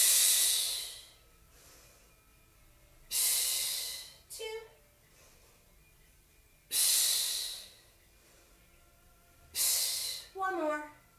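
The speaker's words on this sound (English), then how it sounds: "Inhale, exhale, twist towards the leg. Inhale, and exhale." Deep audible breathing during a home Pilates exercise: four long airy inhales and exhales spaced a few seconds apart, close and loud, with brief voiced sounds between them.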